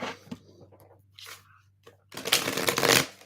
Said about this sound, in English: I will shuffle, because I heard we're using this deck for your question as well.